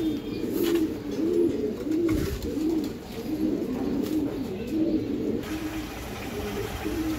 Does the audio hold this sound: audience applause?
no